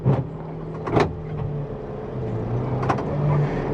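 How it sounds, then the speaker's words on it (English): A 1979 model 2090 tractor with a troubled clutch clears snow, its engine a continuous low drone with a few brief louder surges. "The old 2090, and I do mean old, it's about a 1979 model, it's having a few clutch issues here."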